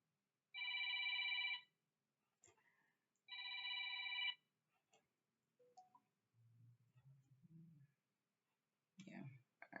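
A phone rings in two loud electronic bursts, each about a second long with a short gap between, followed by quiet clicks, faint rustling and brief low murmurs.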